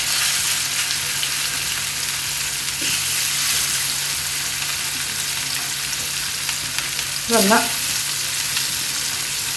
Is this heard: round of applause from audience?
no